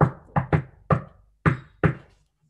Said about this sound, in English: there was a knock at the palace door